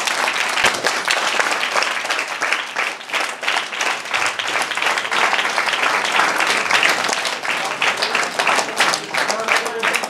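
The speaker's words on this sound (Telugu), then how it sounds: "వారికి ఒకసారి క్లాప్స్ కొట్టండి." An audience at a 2018 Guru ji birthday gathering claps for the teachers: dense, steady applause fills the full ten seconds at close range, with crowd voices mixed in.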